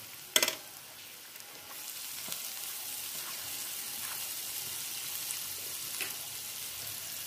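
Cabbage and meat sizzle and fry steadily in a hot pan after a sharp clatter as they go in, with a constant close crackle and occasional stirring knocks.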